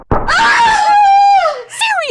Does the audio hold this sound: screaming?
yes